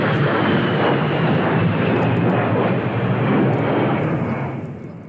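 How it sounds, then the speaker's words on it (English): An A-10 Warthog jet fighter plane roaring overhead, a loud, dense, continuous engine rush that holds steady and then begins to fade slightly at the end, with no voices. "The A-10 Warthog is a loud jet fighter plane."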